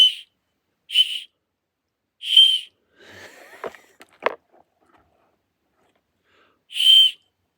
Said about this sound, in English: I got a free whistle.